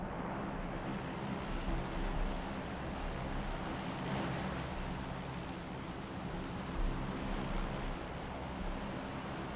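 A propeller airplane flies overhead in the PUBG battle royale game, a steady droning engine hum that stays loud and constant with no talking over it.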